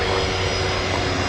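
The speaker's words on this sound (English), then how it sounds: "Link Airways Saab coming in," A Link Airways Saab propeller airliner coming in to land on runway 19 left at Brisbane Airport, heard as a brief, steady, droning engine hum with a constant tonal whine.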